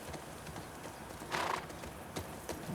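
Horse hooves clip-clop in The Last of Us Part II, a quiet, uneven series of hoof strikes with a few sharper, louder steps and no talk over them.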